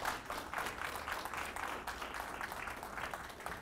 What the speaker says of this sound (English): Give him your attention and give him your applause.